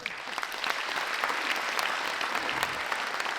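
An audience in a full hall applauds dancers at an anniversary folk dance concert of the Hop Trop dance club in Veliko Tarnovo, a moderately loud wash of clapping that stays steady throughout.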